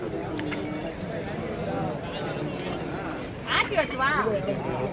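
Horse hooves clip-clop on the ground at a busy cattle fair, with people talking throughout and rustling, jangling crowd noise close by.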